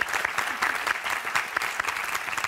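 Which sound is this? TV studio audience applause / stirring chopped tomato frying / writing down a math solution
TV studio audience applause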